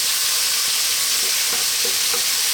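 Tomatoes sizzling over fairly high heat in a pan for a creamy mushroom pasta sauce, a steady bright frying hiss with a few soft stirring clicks, no talking.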